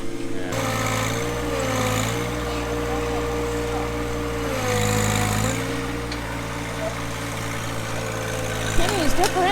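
A John Deere 1025R compact tractor engine runs at a steady idle, a loud continuous drone that rises and falls slightly in pitch, with voices talking over it.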